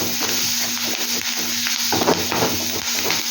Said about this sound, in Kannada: ಇದು ಎಣ್ಣೆಯಲ್ಲೇ ಚೆನ್ನಾಗಿ ಫ್ರೈ ಆಗಿಬಿಟ್ರೆ ಆಮೇಲೆ ಮೊಟ್ಟೆ ಹಾಕ್ಕೊಬೋದು ನಾವು.